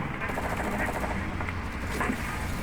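An MG13 heavy machine gun fires in the shooter Enlisted, a dense continuous rattle of rapid shots filling the whole clip, with talk layered over the fire.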